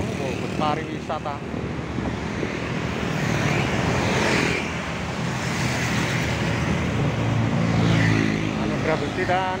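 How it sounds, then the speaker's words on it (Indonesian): A tour bus passes on a busy main road near the edge of Surabaya around dusk. It is a long, loud engine and tyre roar that swells and fades, with other traffic around it and someone talking. "dan langsung bus pariwisata"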